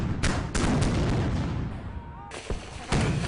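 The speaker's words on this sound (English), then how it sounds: "At this distance, cannon can be fired with accuracy into the city." Eighteenth-century British cannon bombard Charleston at close range during the Revolutionary War siege, with repeated booming blasts and sharp reports over a dense, rumbling battle din.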